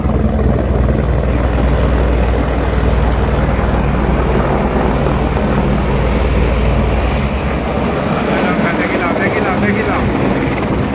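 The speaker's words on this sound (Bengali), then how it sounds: "15 মিনিট আগে একটা ল্যান্ডিং করছে ওখানে আর একটা হেলিকপ্টার" A helicopter at Battersea Heliport in London, with a loud, continuous rotor and engine roar holding steady throughout at close range.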